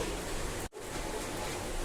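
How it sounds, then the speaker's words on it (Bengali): Steady, dense rain hiss in Dhaka fills the clip, a broad even wash of noise with a brief dropout partway through. "আর তোমরা কি শুনতে পাচ্ছ যে বৃষ্টি পড়ছে?"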